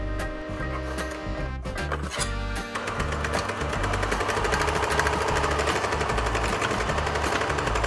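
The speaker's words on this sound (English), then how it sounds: "I used a ruler to mark it on my sewing machine." Rapid mechanical clattering of a sewing machine stitching, steady and close, starting in short bursts and then running continuously.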